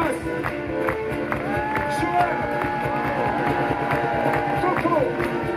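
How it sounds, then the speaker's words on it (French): A concert crowd cheering and clapping for the front-of-house sound crew, a dense continuous wash of applause and shouts under a loud musical beat, while someone talks over it. "je vais vous demander de faire un tonnerre d'applaudissements"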